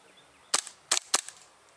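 KJW KC02 airsoft pistol firing three sharp cracking shots, one then a quick pair, close and loud in a quiet setting with no talk.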